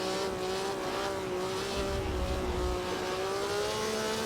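Ferrari racing car engine from Grand Prix Legends, a classic Formula One simulation, as the car runs wide through a corner, holding a steady high-pitched drone with a brief low rumble partway through.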